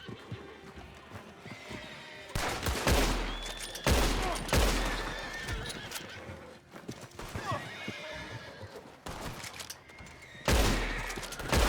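Gunfire rings out in the Red Dead Online video game, several loud sharp bursts breaking over steady clip-clopping hooves and horse whinnies, with no talking.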